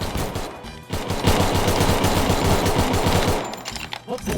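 Rapid automatic gunfire from a shooting video game rattles in dense, continuous bursts, loud and close, with a short pause near the start and scattered single shots at the end.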